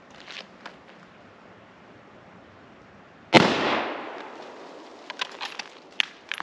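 A .223 or 7mm Remington Magnum rifle fires once outdoors: a single sharp, loud report with a lingering decay, amid quiet background with faint clicks and handling noises afterward.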